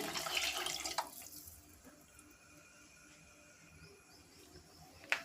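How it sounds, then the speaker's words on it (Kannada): Water is poured into a pressure cooker holding rice and lentils, a short splashing gush at the start followed by quiet background with a faint insect hum and a small clink near the end. "ಇವಾಗ ನಾನು ಇಲ್ಲಿ ಇದಕ್ಕೇ ನಾನು ನಾಲ್ಕು ಲೋಟನ ನೀರನ್ನು ಹಾಕೊಳ್ತಾ ಇದ್ದೀನಿ"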